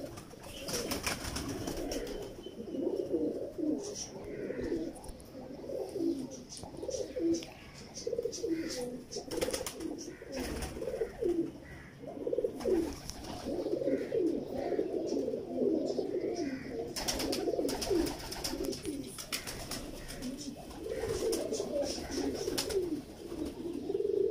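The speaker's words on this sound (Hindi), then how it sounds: "अच्छे कबूतर है माशाल्लाह और बड़े ही शानदार कबूतर" Pigeons coo repeatedly in low, throaty rolling bursts that stay close and fairly loud across the whole stretch, with occasional faint chirps and a voice talking at times over the birds.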